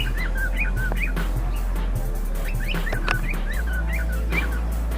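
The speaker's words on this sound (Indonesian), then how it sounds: "Pernah dengar dengan burung parkit?" Repeated shrill chirping parakeet calls in short bursts over a low steady hum, several calls in quick succession, at a zoo.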